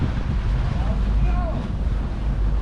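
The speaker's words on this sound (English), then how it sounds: "Yes, the wind was picking up the further along the lake we got." Stiff wind buffets a boat crossing Lake Okeechobee, a steady rumbling roar of air on the microphone with water wash underneath, loud and continuous for the whole stretch.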